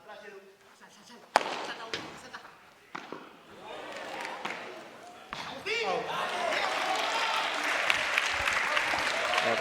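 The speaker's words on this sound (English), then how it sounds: "the crowd again showing their appreciation" A padel match crowd breaks into applause, starting with scattered sharp claps and ball hits, then swelling into sustained, fairly loud clapping and cheering.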